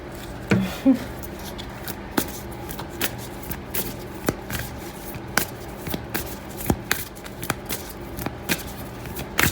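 A Moonology oracle card deck is shuffled by hand, giving a run of soft riffling flicks and sharp card snaps at an uneven rhythm, close and fairly quiet, with no talking.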